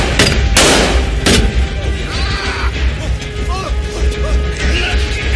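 Gunfire in a dubbed action film: several sharp, loud crashing shots in the first second and a half, then a busy mix of effects and chirping sounds with a voice speaking over it.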